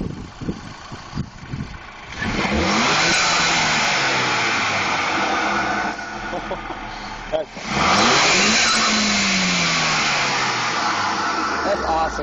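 Stage 2 tuned 2008 VW GTI with a Remus exhaust revving hard, rising in pitch in two long pulls with a brief dip between, loud and close, with voices talking over it.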